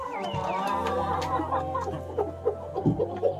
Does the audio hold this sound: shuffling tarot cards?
no